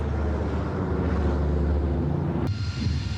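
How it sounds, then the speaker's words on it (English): Steady, loud droning roar of Pratt & Whitney aircraft engines at the Biggin Hill Air Fair, continuous and broadband, with a brief sharp click near the end and some wind rumble. "the sound of her Pratt & Whitney engines will become a familiar sound"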